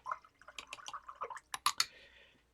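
A brush dips and dabs water into a watercolor painting, producing soft, close wet taps and small drippy splashes in an irregular rhythm that fade into a quiet tail.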